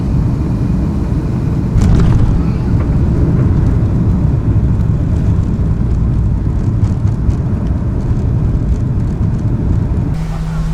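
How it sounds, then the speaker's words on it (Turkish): Airplane descending and touching down on a runway, heard from inside as a loud, constant broadband cabin roar with a brief thump early on and faint talk beneath the noise. "biraz daha piste iniş yapacağız. İniyoruz."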